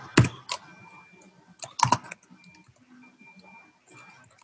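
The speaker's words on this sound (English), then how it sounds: "Man, typing with one hand sucks." Typing on a computer keyboard with only one hand, producing a few quick clusters of clicking keystrokes with short pauses between them, close to the microphone over a quiet room background.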